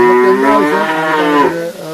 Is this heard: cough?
no